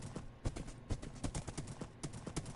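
Horse hooves clip-clopping in Minecraft Bedrock on PS4, a quick uneven stream of close hollow hoof knocks with no talking over them.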